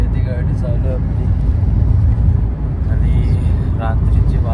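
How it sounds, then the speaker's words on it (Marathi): A car is heard from inside while driving on a highway at night, a steady road and engine drone throughout with speech over it. "हायवेची गाडी चालू आपली"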